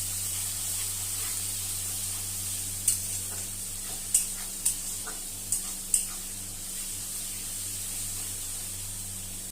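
Ginger paste and onion-garlic paste fry in a pan for a potato, potol and prawn curry, producing a steady, even sizzle and hiss with five sharp spatula taps against the pan.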